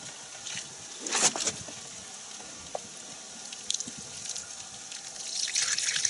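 Dirty car wash water pours from a bucket, giving faint, intermittent splashes and trickles with a few dripping bursts over quiet background, growing busier toward the end.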